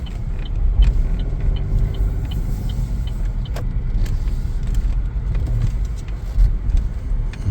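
A 2025 Chevrolet Trax rolls along on a test drive, with steady low road rumble and engine noise from inside the cabin and a few faint clicks.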